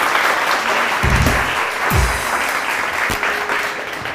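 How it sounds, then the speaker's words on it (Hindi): A studio audience on a morning TV show claps loudly and densely throughout, with a few sharper bursts standing out from the steady wash of hands. "तालियां बजाइए।"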